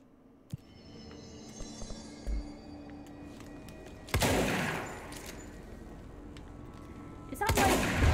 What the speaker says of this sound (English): Kill enemies with the service weapon in charge mode.